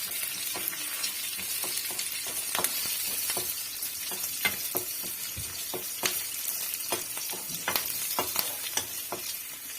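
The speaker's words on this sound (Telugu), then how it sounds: "ఇలా వేయించేస్తే అంత కారం ఉండదు" Green chillies frying in hot oil, a steady dense sizzle with scattered crackles and pops running throughout, close and continuous with no voices.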